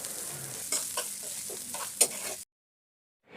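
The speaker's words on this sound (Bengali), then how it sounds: "এবার আমি কেটে রাখা কাঁচামরিচ আর পেঁয়াজটা দিয়ে ভালো করে নেড়েচেড়ে ভেজে নেব" Chopped green chili and onion fry and get stirred in hot oil, giving a steady close sizzle with scraping stir strokes and a sharp clink, then the sound cuts out abruptly.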